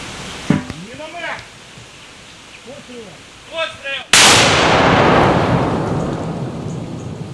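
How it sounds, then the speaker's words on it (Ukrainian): Quiet talk at a frontline firing position in Ukraine is interrupted by a sudden, very loud mortar blast that rolls on as a long, echoing rumble fading slowly. "Ми можемо три постріла зробити, а нам 33. Одну міну зарядити."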